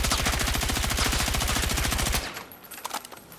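Loud, rapid automatic gunfire in a Battlefield video game aimed at a fire extinguisher, a tight rhythmic burst of shots for about two seconds, then breaking off into a few scattered fainter pops.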